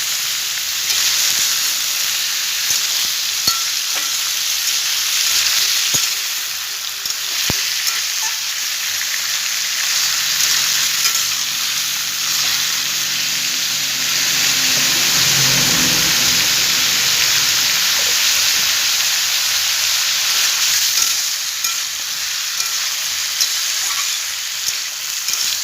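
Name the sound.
sautéing bottle gourd curry with lentil fritters in a pan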